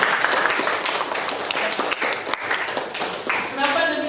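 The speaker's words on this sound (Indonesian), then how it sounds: "Kasih aplaus untuk semuanya." A school class applauds group presentations, a dense burst of clapping from many hands mixed with voices, lasting a few seconds.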